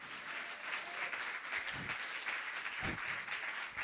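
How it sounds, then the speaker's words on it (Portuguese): A church congregation applauding during a Portuguese-language morning service, steady mid-level clapping from many hands continuing throughout with a slightly distant, roomy sound. "Dê uma salva de palmas ao Senhor"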